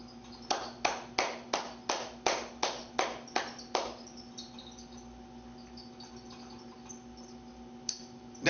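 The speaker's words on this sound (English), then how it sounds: "That's me applauding myself" A single person claps alone about ten times in an even rhythm, close and crisp, then stops, leaving a quiet hum and one later stray tap.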